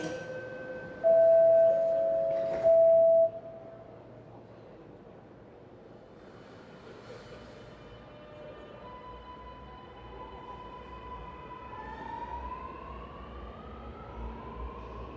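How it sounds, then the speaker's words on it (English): A Sydney Metro City Extension train, first day of service: two loud door-closing chime tones near the start, then a rising electric motor whine as the train pulls away, growing steadily through the rest. "Train doors closing."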